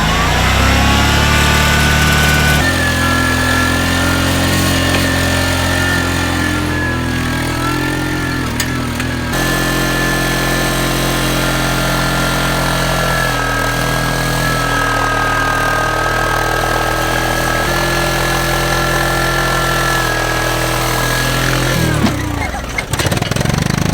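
A small engine drives a miniature, decades-old Rip Saw-style tracked vehicle, running loud and close with a steady droning hum and rough mechanical rattle. It holds a fairly even pitch for most of the stretch, with a brief shift near the end.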